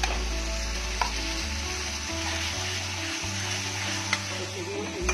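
Chopped tomatoes go into oil-separated masala for chole, hissing and sizzling steadily in the pan, a constant frying crackle with occasional stirring clicks and a low background hum.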